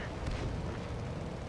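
Tank cannon fire in World of Tanks with an M24 Chaffee in the match: a dense, low rumbling boom and its lingering roar fill the whole moment, loud and steady with no talking.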